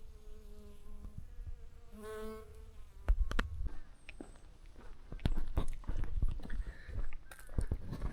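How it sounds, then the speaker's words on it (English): Bees buzz steadily in a tree beside a Florida trail, a faint open-air drone with scattered clicks and rustles and a few louder knocks and footsteps nearby. "This tree is buzzing with bees."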